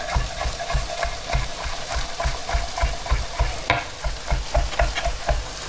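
Tinned tomatoes being broken up in a pan for a Hungarian chicken stew: rhythmic scraping and tapping of a utensil over a steady sizzle, close and continuous with no talk.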